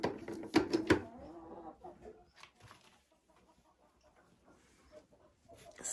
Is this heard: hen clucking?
yes